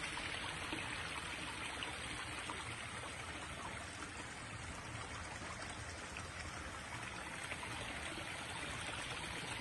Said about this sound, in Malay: Ini air bukit.